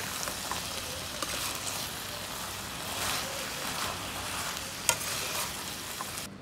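Fried idlis tossed in a hot pan with sauce, giving a steady, close sizzle and frying hiss with stirring scrapes and one sharp clink near the end.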